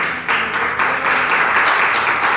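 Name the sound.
church congregation applause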